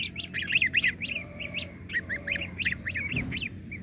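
Young goslings under a month old, raised in the Philippines, honking in a rapid series of shrill, squeaky calls close by, with a quieter, lower honk from another goose mixed in and no talk.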